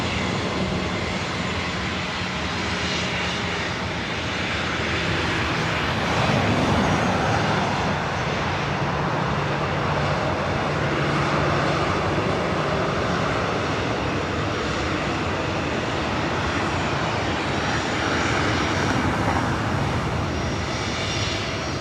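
An airliner on a runway at LAX gives a loud, continuous jet roar that stays close and steady throughout, with a slight swell partway through and no voices.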